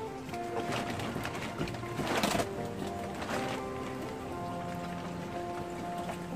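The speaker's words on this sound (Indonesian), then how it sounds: "Itu suara hujan apa suara?" Steady rain patters on a surface outdoors in a soft, continuous hiss, fairly faint, with a brief louder swell partway through and no clear talk.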